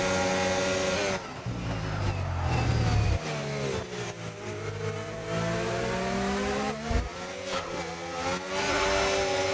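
F1 car in the racing game F1 25 on the Austria circuit in league racing, the engine roaring and revving up and down as the driver gets back on the throttle after a slide; loud, continuous, with no talk.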